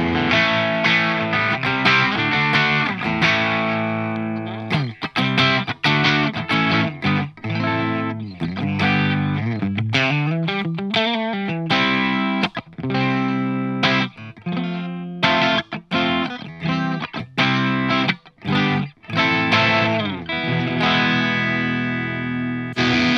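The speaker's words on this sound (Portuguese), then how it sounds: "A distorção fica bem legal, né?" Overdriven electric guitar through the Quimera System, bank C with the mini toggle engaged, plays sustained distorted chords and bends alone, loud and continuous with short stops between phrases.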